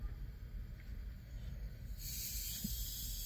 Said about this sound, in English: So I just cracked the top a little bit. Can you hear it fizzing?